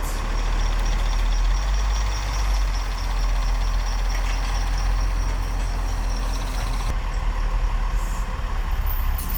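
An M923A2 5-ton 6x6 military truck runs steadily at idle while pulling out a giant tree stump, a deep, constant diesel rumble close by with no talking.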